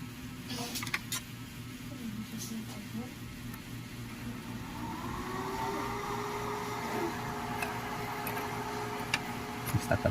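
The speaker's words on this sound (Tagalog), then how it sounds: "So testing natin yung sa blower natin." A small cooling blower fan on a Class D IR2110 power amplifier spins up, a steady hum and rising whirr under faint background noise, with no talk.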